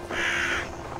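A single loud crow caw in Assassin's Creed Valhalla, a harsh rasping call lasting about half a second, close and clear over quiet game ambience.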